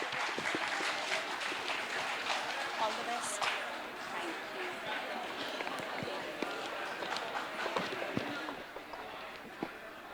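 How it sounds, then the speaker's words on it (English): A farewell-event audience applauds its dance performers with a dense, sustained wash of clapping and crowd noise that carries on for the whole stretch, steady and fairly close. "huge round of applause for the dancing members today"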